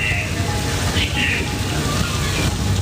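Artificial rain from sprinklers mounted high overhead on a Universal Studios set, falling in a steady, dense hiss that spatters on the ground.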